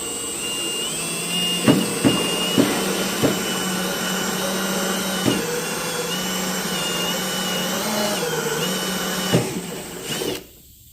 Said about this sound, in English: So I think we're going to go about right in this area here and drill a hole.